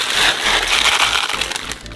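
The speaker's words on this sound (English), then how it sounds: "pour 1 kilogram of buckwheat into a saucepan." Dry buckwheat, a full kilogram, pouring into a saucepan with a loud, continuous rattling hiss of grains striking metal, close and steady before trailing off at the end.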